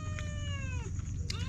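A house cat gives a drawn-out, wavering meow followed by a short second call, close and moderately loud over a low background hum.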